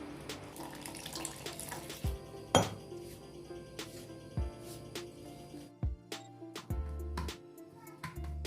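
Water is poured into chapati flour mixed with oil while dough is kneaded by hand for parotta, with wet splashing, squelching and the clink of a bowl. There is no talk.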